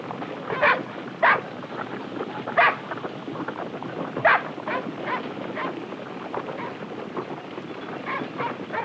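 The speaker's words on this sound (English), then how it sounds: "a dog with flapping red cloth tied to its collar will help force the reindeer" A herding dog barks several times at irregular intervals while driving reindeer, over a windy outdoor background, with quieter yips between the louder barks.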